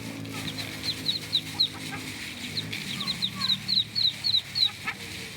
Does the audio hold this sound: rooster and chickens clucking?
yes